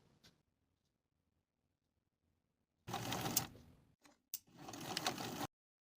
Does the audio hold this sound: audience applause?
no